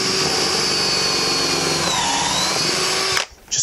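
A power drill bores a hole through a shoe that is clamped in place, working backwards through an existing hole to fit a wooden peg stilt. The steady, loud whine runs alone for about three seconds, then cuts off abruptly.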